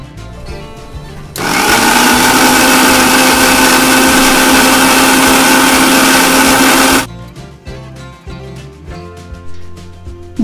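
A mixer whirs steadily as oil is blended into eggless mayonnaise. The loud, even motor drone starts abruptly, runs for about five and a half seconds, then cuts off, leaving quiet background noise.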